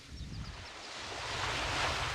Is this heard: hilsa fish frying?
no